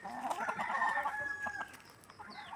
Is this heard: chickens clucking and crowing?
yes